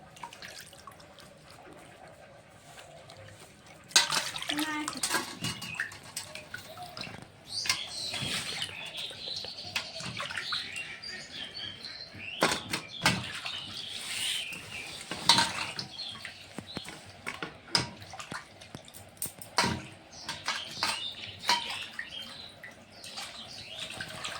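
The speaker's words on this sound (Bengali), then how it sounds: "মাছটা এখন আমি ধুয়ে নিচ্ছি, তারপরে টাটকা মাছ, মাছের রক্ত আছে।" Fresh, still bloody fish being washed by hand in water, with irregular splashing, sloshing and dripping bursts that come and go close by, some louder swishes standing out, no talking.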